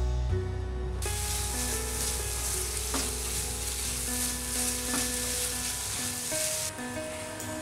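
Keema and egg ghotala sizzling loudly in a pan over a high flame, with a continuous hiss and occasional scraping stirs throughout.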